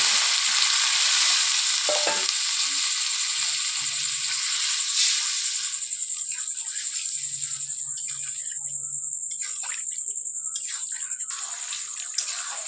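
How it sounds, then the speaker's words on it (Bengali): Tomatoes fry in a pan for a meat curry, giving a steady close sizzle with intermittent scraping as they are stirred, and the sizzle stays loud from start to finish. "মোটামুটি টমেটোগুলো ভাজা হয়ে গেল।"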